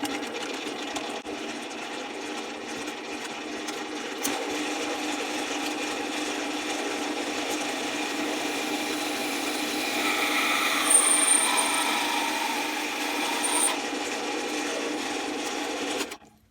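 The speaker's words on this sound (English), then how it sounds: "put the cap in the lathe, turn it on, and feed in a drill bit" A lathe hums steadily for a long stretch while a drill bit grinds into a metal cap, the pitch rising and harshening as it bites, then easing off near the end.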